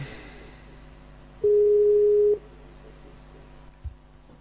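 A Skype incoming call tone sounds once as a steady, loud electronic beep lasting about a second, standing out over a quiet room with faint background hum.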